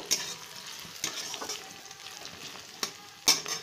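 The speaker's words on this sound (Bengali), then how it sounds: "একটু লঙ্কাটা ভাজা হোক" Steady sizzle of chopped ginger and chili frying in a hot pan, with a few sharp scrapes of a spoon stirring through it.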